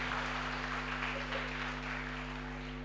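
Audience applause for a child's speech, a steady, fairly faint wash of clapping held throughout over a constant electrical hum.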